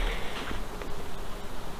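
Bees buzzing steadily up close in an open hive on a cool December day, a dense continuous hum with no voices.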